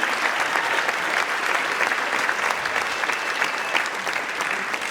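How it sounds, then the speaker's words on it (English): Steady, dense applause fills a high school auditorium during a senior awards ceremony, loud and continuous throughout with no voices over it. "So we could please give him a nice round of applause."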